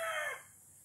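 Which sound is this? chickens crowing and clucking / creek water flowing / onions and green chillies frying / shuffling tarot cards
chickens crowing and clucking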